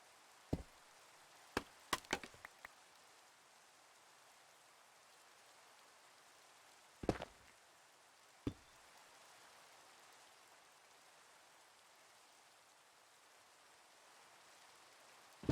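Rain in the video game The Citadel gives a faint, steady soft hiss throughout. A few sharp woody knocks and clicks come in bursts near the start and middle.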